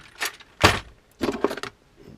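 Keys jangle in three quick bursts, close and clear, with short pauses between shakes.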